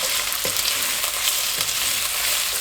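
Red and green peppers and onion fry over a high flame, giving a loud, dense, continuous sizzle with a few faint scraping stirs.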